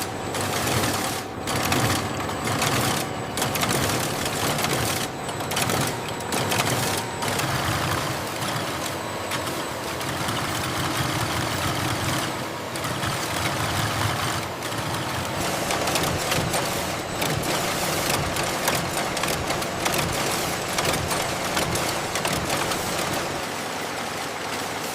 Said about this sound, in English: The automated collar sewing and folding machine precisely folds and stitches each collar into its finished shape